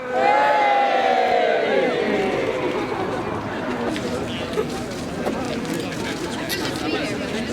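Crowd cheering and shouting together on cue at a twins gathering, a loud sustained roar of many voices that starts with a rising whoop and carries on for several seconds with babble and scattered calls.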